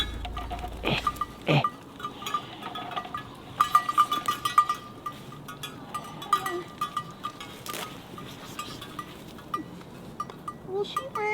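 Sheep bleat faintly in an open outdoor setting, with brief clinks and rustling; a couple of short calls stand out among steady background noise.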